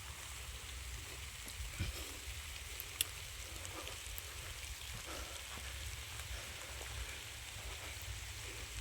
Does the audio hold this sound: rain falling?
yes